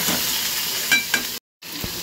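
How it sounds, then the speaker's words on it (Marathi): Cumin, mustard seeds and curry leaves crackle in hot oil with a steady broadband sizzle and a couple of sharp pops, broken briefly by a short silent gap before the frying resumes. "आता त्यात जिरी आणि हे टाकूया, मोहरी, कढीपत्ता टाकूया"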